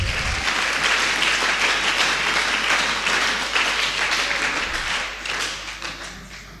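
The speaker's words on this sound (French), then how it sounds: "Frères et sœurs, on acclame encore" A church congregation claps together in sustained, dense applause that holds steady for several seconds before easing slightly toward the end, with no voices over it.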